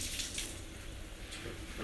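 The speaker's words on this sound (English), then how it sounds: "Rinse off my hands." Tap water runs steadily as hands are rinsed in a home kitchen while making salmon patties and fried potatoes, a continuous close splashing gush that stays alone with no voice.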